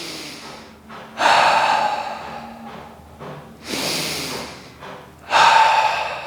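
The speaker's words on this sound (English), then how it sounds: "And then you just breathe." Deep, slow breaths during a passive hamstring stretch: three long, loud exhalations with softer inhalations between them, close and heard alone with no talk.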